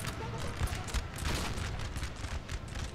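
Musket volleys ring out in a Napoleonic-era battle in Napoleon: Total War, a faint, rolling crackle of many overlapping shots that comes in uneven bursts with no voices over it.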